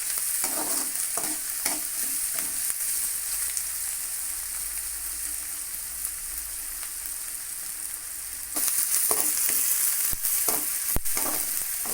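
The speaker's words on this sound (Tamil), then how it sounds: "இது இப்படியே நல்லா கிளறிட்டு இருக்கலாம்" Chopped onion and tomato frying in a pan, stirred continuously with a spoon: a steady close sizzle with repeated scraping and clinking strokes, a few sharper knocks near the end, no voices.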